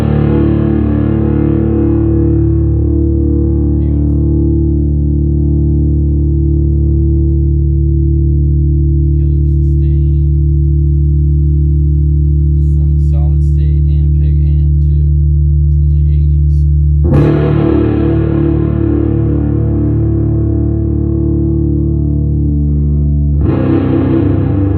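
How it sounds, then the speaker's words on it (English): An electric guitar plays heavily distorted sustained chords through a feT clone pedal simulating a Sunn Model T tube amp, loud and droning with a thick low end, ringing out, cutting off, then struck again. "Let's see how distorted this thing can get. Just as a simulator of a Model T amp."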